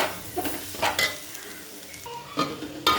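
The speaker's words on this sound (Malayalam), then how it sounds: "നമുക്ക് അതിലോട്ട് തക്കാളി ചേർത്ത് കൊടുക്കാം. ഭംഗിയായിട്ട് വഴറ്റിയെടുക്കാം." Tomatoes with green chillies sautéed in a pan for a chicken curry, with several distinct scraping strokes of a spoon against the pan over a soft sizzle, close and fairly loud, with brief quiet gaps between strokes.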